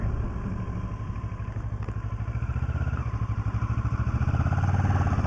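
A motorcycle engine runs steadily and close, with a pulsing low rumble that grows slightly louder and faster toward the end, plus occasional clatter.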